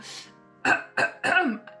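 A few short, harsh coughs in quick succession after a breathy gasp, close and moderately loud.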